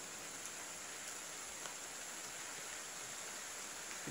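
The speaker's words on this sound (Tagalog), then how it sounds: "Lumalakas yung ulan oh." Rain falls at night in the Philippine countryside as a constant, even hiss with scattered drop ticks, moderately quiet and steady, with no speech.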